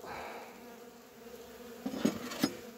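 Honeybees buzzing at a hive entrance during hive work with signs of robbing, a low continuous drone with a few louder close passes near the end and light clinks.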